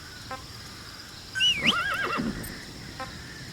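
A horse in the video game Metal Gear Solid whinnies once, loud and close, with a rising then wavering neigh, preceded and followed by faint hoof clops.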